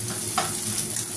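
Onions sauté in a little oil in a pan for a sardine and noodle dish, a continuous close sizzle with soft stirring scrapes, no voices.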